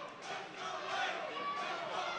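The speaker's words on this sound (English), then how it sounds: "Crowd getting into it here in the third and final round" Crowd cheering at an Army combatives welterweight fight in the third and final round, a faint, steady roar of voices from the stands with no clear speech on top.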